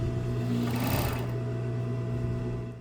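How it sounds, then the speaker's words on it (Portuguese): An overlock sewing machine runs steadily while stitching a cuff seam on baby clothing, a close, continuous whirring hum with a rapid mechanical chatter and no talking. "Aí eu coloco ali e passo a costura da overlock aqui, fixando tudo."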